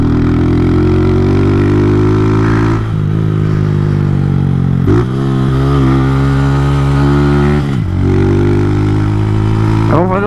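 A Honda Titan 160 motorcycle engine with 16/43 gearing running flat out at top speed, a loud, close, droning roar with gear-change-like dips and rises, under rushing wind.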